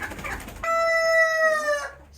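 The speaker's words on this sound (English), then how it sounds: "We're going to pick up the hen." A rooster on a chicken farm lets out one long, loud, drawn-out crow close by, preceded by softer clucking and farmyard noise.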